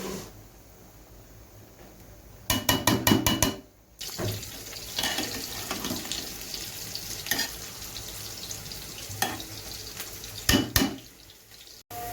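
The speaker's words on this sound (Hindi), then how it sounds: "ये हो रहा है दाल का तड़का तैयार" Hot oil sizzles steadily in a pan as a dal tempering is prepared, broken by bursts of sharp crackling and a few clinks from stirring.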